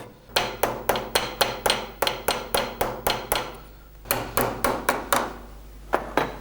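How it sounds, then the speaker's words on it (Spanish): A craftsman hammers a metal ferrule onto a handmade folding-knife handle of deer or bull horn. The strikes are sharp, metallic and close, in a quick even rhythm, with a short pause before they resume. "el artesano los amolda al mango con lima y martillo"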